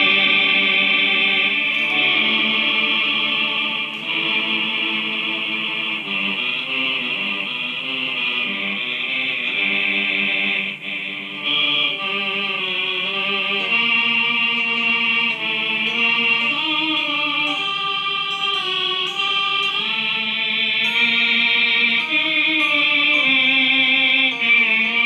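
An Electro-Harmonix MEL9 pedal on its low choir setting plays sustained, layered choral tones, a steady loud chord progression of smooth voices changing pitch with no talking.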